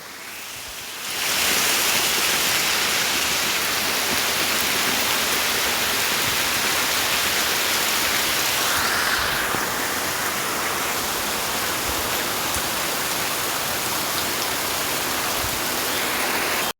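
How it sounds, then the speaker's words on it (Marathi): Steady, dense roar of heavy monsoon rainfall in the Konkan, broadband and continuous, starting abruptly after a brief quiet moment and holding loud throughout with no voices. "जोरदार पावसाने हजेरी लावले"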